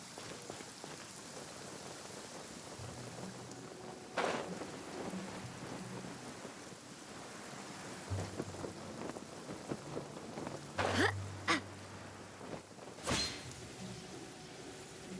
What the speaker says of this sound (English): The rain won't slow me down.